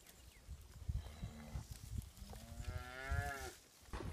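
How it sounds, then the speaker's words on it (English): Cattle on summer pasture on the high plains moo in low, drawn-out calls, one long bellow rising and falling near the middle over faint outdoor background noise. "we've got our cattle on summer pasture"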